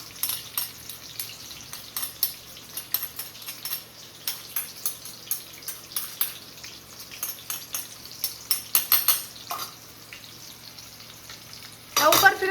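A spoon scrapes and stirs raw mango rice (kairi bhat) in a frying pan under a steady sizzle, with repeated clinking strokes and a louder scrape near the end; no talk.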